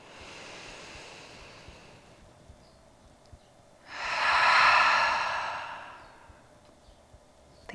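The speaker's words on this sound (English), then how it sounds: "join me for one collective breath, starting by letting all of your air out" A yoga class takes one collective breath together: a soft group exhale trails off, a quiet pause follows, then a fuller, breathy inhale-and-release swells for about two seconds before fading back to near silence.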